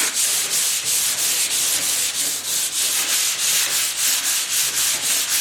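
Hand sanding of car body work with sandpaper, a loud, steady back-and-forth rasp repeating in quick even strokes, close up and with no voices.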